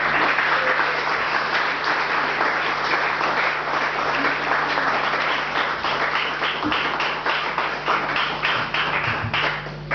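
A church congregation applauds steadily to welcome Pastor Yvan, dense continuous clapping filling the hall at a loud, even level for the whole stretch.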